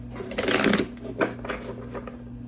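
A deck of tarot cards is shuffled by hand, a quick close riffling burst followed by a few softer flicks and taps against a steady low electrical hum.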